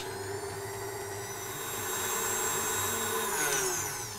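Stand mixer beating cream cheese, icing sugar and Nutella, a steady whirring motor hum with a high whine that swells slightly midway, running alone without talk.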